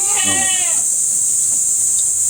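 A goat on a hillside goat farm lets out one short, nasal bleat nearby, over a constant loud high hiss of insects or wind, followed by faint background sounds.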